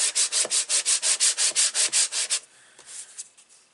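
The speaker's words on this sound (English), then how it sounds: "Just give that a rub from the back so we get our glue to stick." Paper die cut rubbed firmly from the back to set glue on a card, a run of about a dozen even, rhythmic rasping strokes up close, then a few softer scattered rubs.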